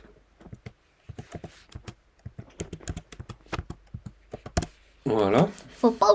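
Keys tapped on a computer keyboard while a child types a greeting during a Python lesson, sparse close clicks in short uneven runs, followed by a brief burst of speech at the end.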